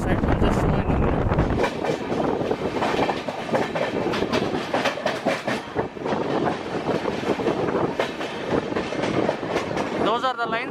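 The Janshatabdi Express rolls steadily along the tracks approaching Gudur Junction, India, with continuous rattling and rhythmic clattering, loud and close, with wind noise throughout.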